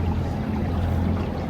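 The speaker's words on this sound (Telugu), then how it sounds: "వాటర్, కూలింగ్ వాటర్ అయితే ఫ్లో అవుతూ ఉంటుంది, పైనుంచి కిందకి వస్తూ ఉంటుంది" Cooling water flows from top to bottom inside an air filter unit on a fig farm in Dubai. It makes a continuous, even rushing wash with no breaks.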